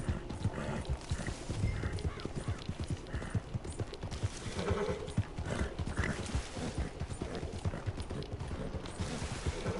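Horse hooves clip-clopping in Red Dead Redemption 2, a quick, steady run of hoof strikes with a brief whinny, fairly quiet and without talk.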